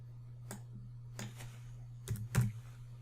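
A few separate keystrokes on a computer keyboard while entering material sizes into cabinet design software, close and sparse, with a low steady hum underneath.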